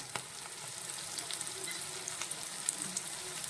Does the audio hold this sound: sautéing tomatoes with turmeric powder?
yes